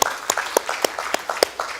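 Clapping for the Lord at a Spanish-language church service, sharp individual claps landing in a loose, uneven rhythm roughly every quarter second, fairly close and distinct against a quiet room.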